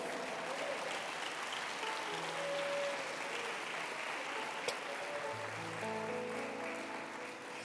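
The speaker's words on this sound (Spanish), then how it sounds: "Dele palmas al Señor." A church congregation claps and applauds in a steady, dense wash of hands, with faint organ or keyboard tones sounding underneath.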